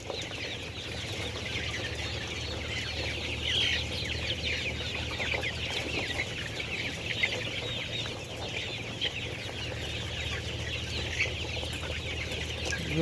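Golden silver chicks, thirty-four days old, cluck and peep continuously while eating feed in a coop, a soft, dense chatter of many birds over a low steady hum, with no talking.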